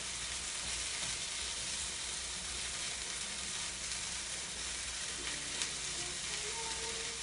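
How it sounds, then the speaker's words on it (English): Food stir-fries in a hot pan with ginger and sesame, giving a dense, steady sizzle with faint scraping from stirring, close up and continuous, with no talking. "I'm just gonna stir fry this a little bit."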